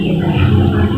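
An electric grinder whirring loudly as it blends tamarind pulp with water, a dense steady motorized roar, close and continuous, no voices.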